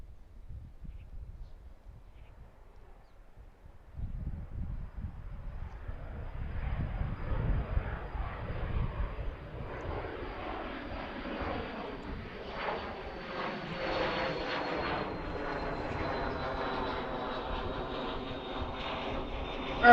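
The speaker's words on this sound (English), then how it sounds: "This is the Embraer Phenom going to Birmingham." An Embraer Phenom jet departs Lehigh Valley International Airport in Allentown, its engine roar building from a faint distant rumble into a steady, rising whine that holds under wind noise as the aircraft passes at a distance.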